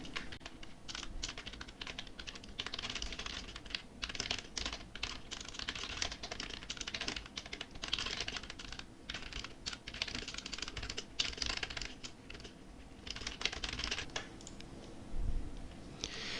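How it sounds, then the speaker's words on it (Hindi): Someone types on a computer keyboard while writing in MS Word, producing a fast, continuous run of close, crisp key clicks with brief irregular pauses and no voice. "तो ये यहाँ पर हमने विषय टाइप कर लिया है।"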